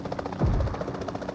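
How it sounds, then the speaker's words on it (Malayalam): Helicopter in the mobile battle royale game BGMI, a steady rotor buzz with rhythmic blade chopping, moderately faint and continuous throughout the short stretch, with no talk over it. "ഹെലികോപ്റ്റർ അവിടെ തന്നെ ഉണ്ട്."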